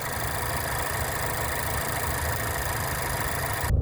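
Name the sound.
2020 Mazda 3 engine idling at the exhaust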